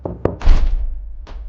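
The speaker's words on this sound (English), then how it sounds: "A knock at the door." Knocking at a door: two sharp raps, then a heavier thump and a final knock after a pause, close and distinct in a quiet room.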